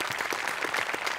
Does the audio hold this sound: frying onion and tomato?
no